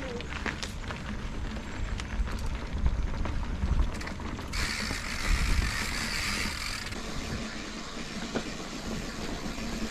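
A mountain bike rolls over gravel strewn with big stones on a cross-country trail, with rough crunching and rattling tyre noise, clattering parts and bursts of wind rush, close and continuous.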